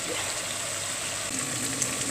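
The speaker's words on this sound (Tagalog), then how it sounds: "At tayo maglalagay ng tubig." Water poured into a pot of chicken tinola simmering on the stove, a steady broadband gush that runs evenly for about two seconds with no talk over it.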